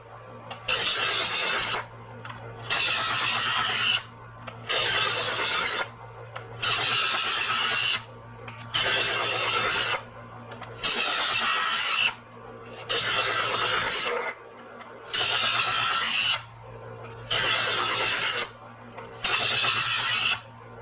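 Steady, evenly spaced rasping strokes come from a knife pulled again and again through a knife sharpener, about nine close, loud scrapes with brief gaps between, over a constant low hum.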